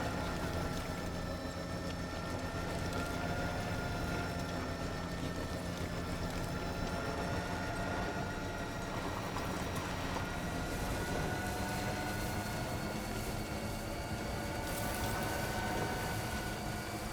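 A monorail in the video game Death Stranding 2, a steady rumbling drone with tonal hum and rushing noise, continuous and fairly quiet throughout.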